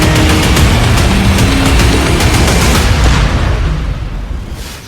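Russian shelling strikes Kharkiv, Ukraine, in a loud, sustained roar of blast noise with rough crackling bursts that fades off at the end, with no voices.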